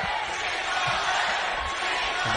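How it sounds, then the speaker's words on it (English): A college basketball arena crowd in Oxford during an Ole Miss versus Auburn SEC game roars in a dense, sustained chant, steady and loud throughout. "And the crowd chants Chick-fil-A."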